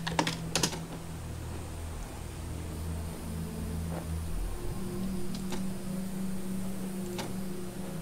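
Keystrokes tapping on a computer keyboard while playing Wasteland 2, irregular clicks in short bursts near the start and scattered single taps later, faint beneath a steady background hum.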